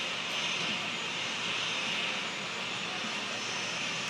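An airliner arriving at Buri Ram Airport in Thailand gives a steady, broad jet roar that holds at an even loudness throughout, heard from the tarmac with no talking.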